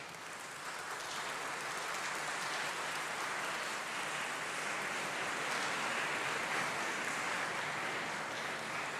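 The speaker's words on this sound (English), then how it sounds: "please give them a big round of applause to your family and to your teachers" Graduates at a university graduation ceremony applaud their families and teachers, a steady, dense wash of clapping that fills the hall evenly and continues unbroken throughout.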